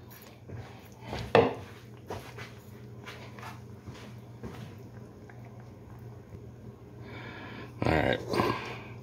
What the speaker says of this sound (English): I'm gonna take my little tongs and grab these out, the big pieces.